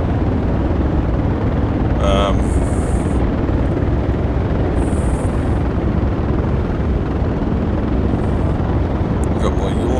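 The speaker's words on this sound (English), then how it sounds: "If I move the throttle flat full forward, it should allow me to take off." An aircraft engine roars at full throttle for takeoff in a flight simulator game, a loud, steady broadband drone throughout with brief high electronic tones over it.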